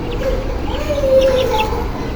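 Chickens clucking on a poultry farm, a steady low murmur of hens with faint clucks and a brief higher call rising over constant barn noise, no talk.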